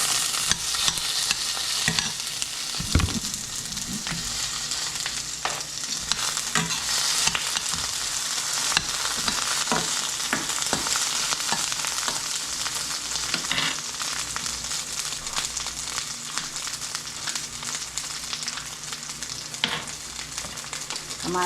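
Onion sautéing in a pan, a constant close sizzle with frequent utensil scrapes and clicks from stirring, steady throughout.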